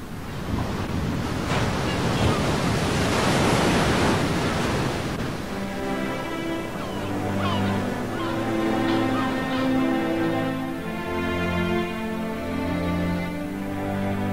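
Atlantic Ocean waves wash in with a broad, steady roar that later thins, giving way to a musical tonal backdrop underneath the surf.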